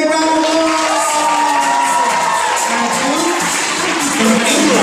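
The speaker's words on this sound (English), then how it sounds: "Simon says give Maya and Jonah a great big round of applause." An audience at a lively children's show breaks into applause and cheering, a loud, continuous crowd roar with whoops layered over the clapping.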